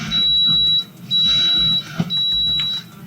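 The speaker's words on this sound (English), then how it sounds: "I've never thought under this price it could be possible to have a buzzer that tells you that the coffee is done brewing" A Mr. Coffee coffee maker beeps when brewing is finished, sounding three long, steady high-pitched electronic tones in an even on-off rhythm, close and loud with no talk.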